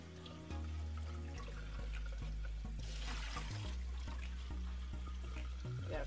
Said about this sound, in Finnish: No ja sitten vaan huuhtaseen